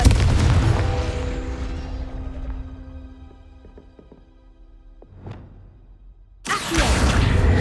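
Confringo fire spell blast in the video game Hogwarts Legacy: a loud booming whoosh fades into ringing metallic tones and clicks, then a short swell and a fresh forceful blast near the end.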